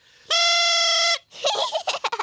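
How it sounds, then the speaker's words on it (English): A cartoon thrump warbler, a silly-sounding musical instrument, blares one sustained buzzy horn-like note, then trails off into a string of quick wobbling, honking bursts, loud and close. "This is called a thrump warbler."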